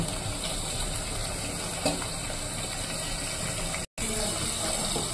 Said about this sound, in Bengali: এবার এই পাশটাকে আমি ভেজে নেব।